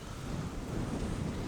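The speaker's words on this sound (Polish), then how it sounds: "Ale wiatr." Wind rushes past during a bike ride on Poland's Green Velo cycling route, a steady, dense roar that buffets the microphone with no voices heard.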